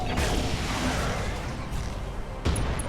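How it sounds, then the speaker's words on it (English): Plasma cannon fire in the RogueTech mech combat game: heavy, rumbling blasts and booms fill the moment, with a sharper burst near the end and no talking. "Plasma cannon crit."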